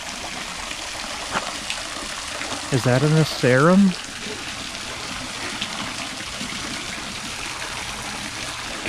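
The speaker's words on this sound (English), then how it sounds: "Oh yeah, look at the waterfall." A small garden waterfall at a plant nursery in winter gives a steady, soft splashing rush throughout, while a person briefly talks over it midway.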